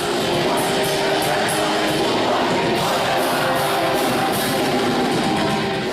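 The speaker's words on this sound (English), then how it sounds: "And when thousands of Brazilians sing along to Portuguese language," Thousands of Brazilian fans sing along in Portuguese, a dense, steady roar of massed voices that stays loud and even throughout with no single voice standing out.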